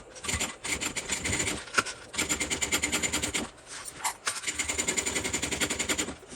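A sewing machine stitches a seam on a handmade Alicia bag, running in fast rhythmic bursts with short pauses between runs, loud and close with no talking.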